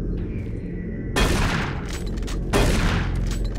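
Pulse rifle bursts in the video game Doom 3, two loud rapid automatic volleys fired close, each followed by a fading sci-fi echo over low background game ambience.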